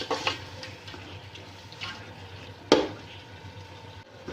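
Minced meat and capsicum being fried and stirred in a pan for keema pulao, a faint sizzle with soft scraping stirs and a sharp clank from the utensil partway through, no talk.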